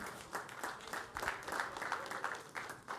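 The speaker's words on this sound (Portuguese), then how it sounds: "Você pode aplaudir o nome do nosso Deus?" Congregation applauding in a church, a moderately faint, continuous patter of many hands clapping with rhythmic accents.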